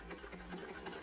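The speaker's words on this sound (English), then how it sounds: "Just top stitching that in place" Steady, close hum of a sewing machine running continuously as it topstitches layers of a fabric sling bag in place, a smooth even whir with no pauses.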